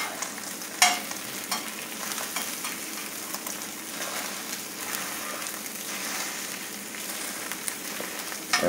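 Non-refrigerated eggs fry in a pan with a steady, broadband sizzle and crackle, with scattered pops and the occasional scrape of a turner as they are flipped; no one talks.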